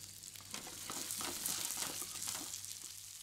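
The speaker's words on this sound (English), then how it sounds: "Once the garlic has begun to brown, you can add your prawns to the heat one by one." Prawns sizzle in hot oil with browning garlic in a non-stick pan, a steady, close crackling hiss with no voices.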